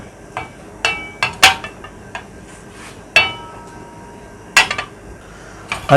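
A metal frying pan is set down and handled on a stovetop while cooking chicken steak, giving a series of sharp, separate clanks and clinks spaced irregularly, fairly close and alone with no talk.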